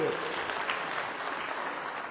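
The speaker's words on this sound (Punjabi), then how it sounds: "ਇੱਥੇ ਇੱਕ ਵਾਰ ਜ਼ੋਰਦਾਰ ਪਹਿਲਾਂ ਤਾੜੀ ਮਾਰੋ" An audience at a political speech claps steadily and fairly loudly, a dense even applause lasting throughout with no voice on top.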